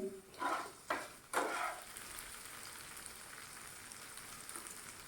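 Bitter gourd stir-frying with onion in a pan over low to medium heat, a few loud stirring bursts at the start, then a steady soft sizzle continuing alone.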